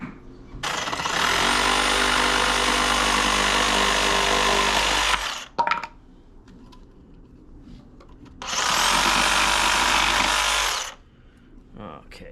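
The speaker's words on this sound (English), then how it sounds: "A piece of wood. I'm gonna cut this and then we'll sand it down." A power tool saws through a piece of cedar wood in two long, loud, steady cutting passes, each several seconds, with a short pause between them and light handling noises after each.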